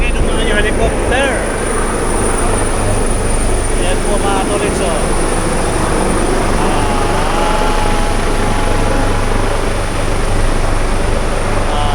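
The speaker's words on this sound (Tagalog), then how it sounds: "Ayan po, maingay ng mga helicopter." Helicopters pass overhead at a Christmas party, a loud continuous rotor and engine roar that covers the whole span while a person talks over it.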